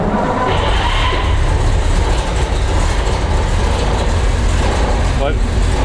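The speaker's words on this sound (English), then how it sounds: "So if we start this one back up, so must switch on." An Alvis armoured vehicle engine starts inside a workshop and settles into a loud, heavy, continuous rumble close by, with people talking over it.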